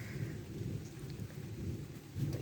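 Thunder rumbles low and distant through a steady wash of thunderstorm rain, the soft rolling swells rising and falling over a few seconds with no voices.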